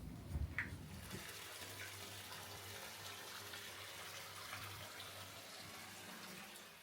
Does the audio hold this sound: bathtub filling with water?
yes